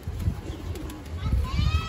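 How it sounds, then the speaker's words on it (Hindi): A Lokhande pigeon with purple feet coos in low, soft, pulsing bursts, close by, with a steady background rumble. "जामनी पंजों का लोखंडा कबूतर है"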